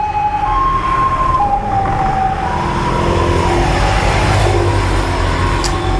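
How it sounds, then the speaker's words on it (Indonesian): An ambulance siren alternates between two pitched tones over steady road traffic rumble, loud and continuous throughout. "Ini ambulan ya?"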